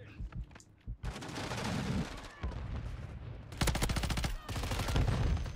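Rapid pistol gunfire in Call of Duty MW3 multiplayer: several quick bursts of sharp shots, some dense and rattling, fairly loud against a quiet game background with brief gaps between volleys.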